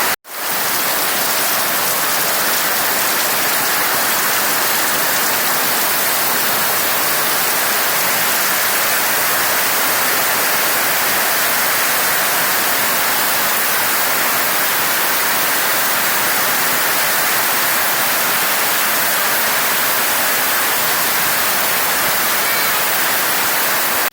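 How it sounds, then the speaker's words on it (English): Heavy rain pours down in a dense, steady hiss that holds loud and unbroken for the whole stretch, with no voices over it. "I'll come back after this rain subsides a bit."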